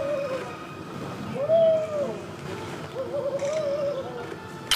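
A tawny owl calls at night with low, drawn-out hoots that rise and fall, two main phrases over a steady background hiss. The hoots are faint to moderate and no voices are heard.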